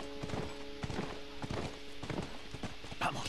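A ridden horse in the video game The Last of Us: rhythmic clip-clop of hooves at a steady walking pace, fairly close, over a soft background drone.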